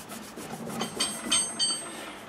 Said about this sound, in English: Bit of polishing